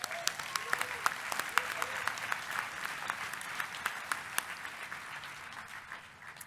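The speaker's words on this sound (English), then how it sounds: "So give yourselves a round of applause" Convention audience applauding in a large hall at an opening session, a dense, steady wash of clapping with sharp individual claps standing out, holding for several seconds and easing slightly toward the end.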